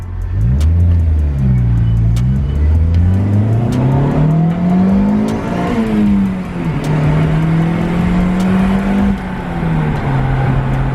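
A turbocharged Honda D16 two-door car accelerates without boost from inside the cabin, its engine droning and rising in pitch through the gears with brief dips at each shift, loud and steady.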